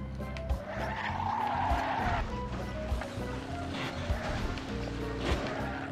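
A vehicle in the Banjo-Kazooie: Nuts & Bolts video game skids through swamp water with no grip, giving a continuous engine drone and a shifting tire squeal over about six seconds, with game music underneath.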